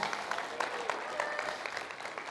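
A church congregation claps at a Sunday service to welcome a pastor to the stage, a steady, moderately faint round of applause from a crowd.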